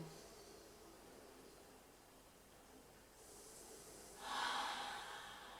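A person breathes during a calm family relaxation exercise: a soft, airy inhale swells near the end over a quiet, hissy background, with no talking.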